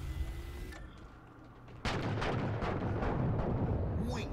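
A rocket explosion in Halo 4 on Xbox 360 lands as a sudden loud blast partway through, then rolls on as a dense, rumbling roar. A voice talks faintly before it.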